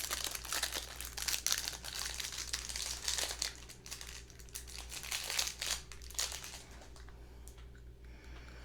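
Plastic wrapping inside a box is peeled and pulled loose in a close, quiet unboxing, crinkling and rustling in irregular bursts for several seconds with no talking.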